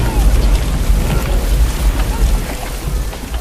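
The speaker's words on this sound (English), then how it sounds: "A spring storm turns crude roads into rivers of mud." A spring rainstorm rumbles, with loud, dense rain and a deep, continuous thunder-like roar filling the low end, heavy and close.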